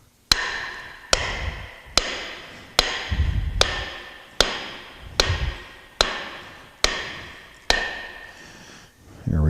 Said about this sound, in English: just drive this pinion flange down until there's enough threads that I can get the pinion nut on